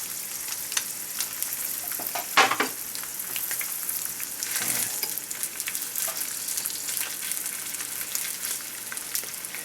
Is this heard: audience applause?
no